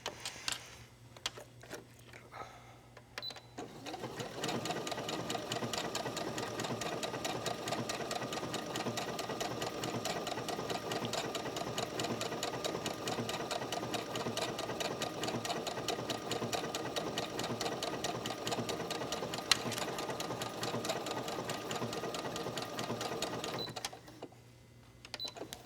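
A sewing machine stitching a blanket stitch on wool applique, running steadily with a fast rhythmic needle clatter for about twenty seconds, starting and stopping with brief quiet gaps at each end.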